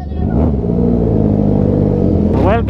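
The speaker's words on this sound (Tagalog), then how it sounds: "Dami ng motor oh." Motorcycles rev on the starting grid of a 750 km endurance race at a sports complex during a festival, a loud, close, steady engine roar with rising revs near the start and again at the end, and no talking.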